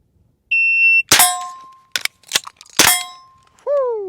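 A Griffin Armament MK2 9mm pistol-caliber carbine fires two sharp, loud close shots with ringing steel-target clangs, separated by metallic reload clatter, between electronic shot-timer beeps.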